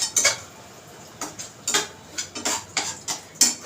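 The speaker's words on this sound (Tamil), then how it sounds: "நல்லா வதக்கலாம்." A spatula scrapes and taps on a pan as ingredients and spice powders are sautéed for egg vermicelli, about a dozen short clinking strokes in an uneven rhythm, close and fairly loud with no talking.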